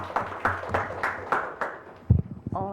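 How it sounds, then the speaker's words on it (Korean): Scattered, fairly rhythmic hand claps ring out at a Korean research policy forum as a university professor is introduced, then fade as a voice begins speaking. "큰 박수 부탁드립니다."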